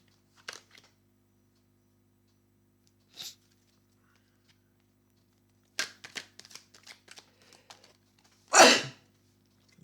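A person indoors, with incense burning, lets out one sharp, close sneeze near the end, after a few scattered small clicks and rustles in an otherwise quiet room.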